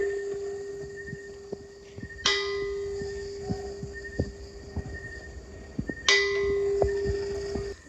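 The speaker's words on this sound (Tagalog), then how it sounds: "Crispin, lakasan mo pagpatunog ng kampana." A bell rings out with a sharp metallic strike, its tone sustaining, then struck again a few seconds later over a steady background hum.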